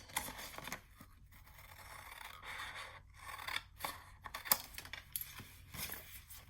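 Scissors cutting paper for a Halloween mini album, a run of quiet, close snips and rustling scrapes with uneven pauses and no talking.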